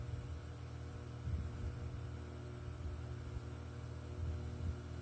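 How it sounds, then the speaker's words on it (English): A vacuum pump evacuating an R410A refrigeration system during a repair runs with a low, steady droning hum, faint and unchanging throughout, with no talking. "we got this vacuum pump pulling down the system"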